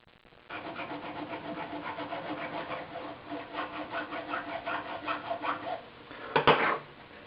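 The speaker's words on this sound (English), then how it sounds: "I'm just working on the final filing to get it to fit." A hand file rasps back and forth over a metal cutout to make a bolt fit, a steady rhythmic scraping of repeated close strokes that grows louder, ending in a sharper metallic clatter.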